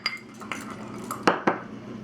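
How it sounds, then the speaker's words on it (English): Spoon stirring milk and cinnamon in a bowl for banana bread, light clinks and taps of metal against the bowl in an uneven rhythm, close and fairly quiet. "Now I'm mixing 1 tablespoon of milk and 1 teaspoon of cinnamon."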